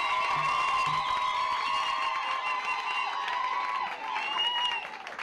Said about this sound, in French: des acclamations très fortes pour la gloire du Seigneur